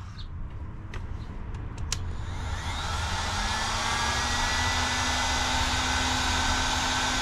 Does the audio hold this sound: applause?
no